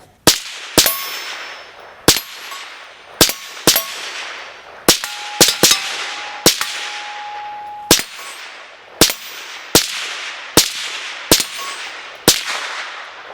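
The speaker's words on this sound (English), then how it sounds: "let's shoot around, let's have a little fun, kind of ding wing on some of these steel targets here" Rifle fired through a Griffin Armament Checkmate HD suppressor at an outdoor range, about a dozen sharp reports each followed by a ringing metallic clang from steel targets, spaced irregularly with a few in quick pairs.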